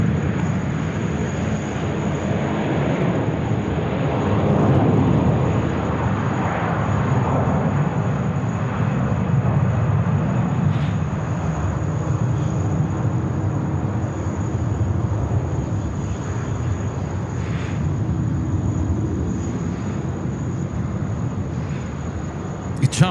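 A jet airliner takes off from runway 16 right at Sydney Airport, its engine roar steady and broad for the whole stretch, swelling slightly partway through. A voice talks over it now and then.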